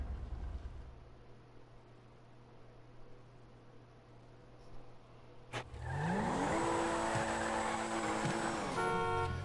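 The Pfister Comet sports car in a video game idles with a low hum, then its engine roars loudly as it accelerates and revs through rising and falling pitches.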